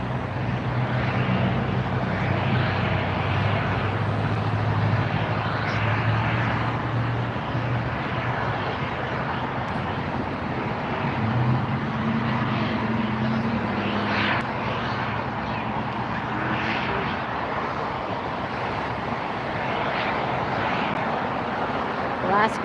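A large airliner arriving at LAX airport on the far runway, a steady, broad jet roar sustained throughout at moderate distance, with faint voices at times.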